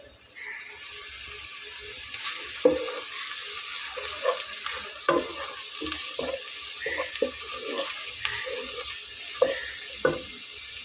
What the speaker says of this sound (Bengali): দেখুন পেঁয়াজটা কিন্তু আমার কাঙ্ক্ষিত ভাজা হয়ে গেছে